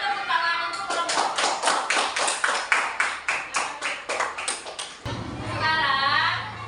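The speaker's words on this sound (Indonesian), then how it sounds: "kalau keren, beri tepuk tangan untuk kelompok" A group of children clap together for a classroom group's performance, about fifteen quick, evenly spaced claps close by, then an adult voice speaks afterward.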